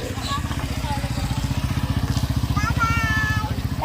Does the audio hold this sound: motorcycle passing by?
yes